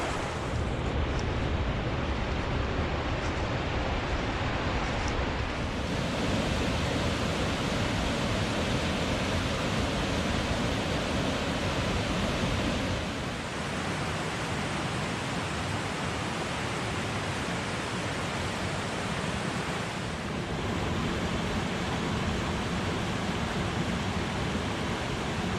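Flowing water at a creek crossing on the South Fork of Citico Creek on an overcast day, a steady, loud broadband rush with no pauses, close to the microphone and unchanging throughout.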